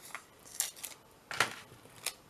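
A few crisp snips of scissors cutting tape, close by, in short irregular bursts with quiet pauses between.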